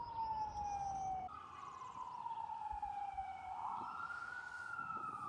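An emergency vehicle siren wails at a gravel rally course, a clear rising and falling tone heard steadily from a moderate distance over low background rumble.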